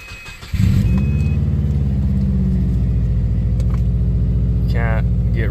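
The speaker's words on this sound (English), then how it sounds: "That's just an iconic super rumble." A 2010 Subaru WRX engine cranks and catches, then settles into a loud, steady, throbbing boxer rumble at idle, close up, with a brief whine near the end.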